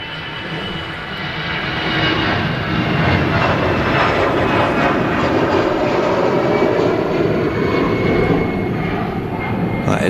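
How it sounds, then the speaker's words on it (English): An EasyJet Airbus A320 rolls for takeoff at Manchester Airport, its jet engines building into a loud, steady roar that swells and holds across the whole stretch, fairly close. "Just rolling, an EasyJet to Nice."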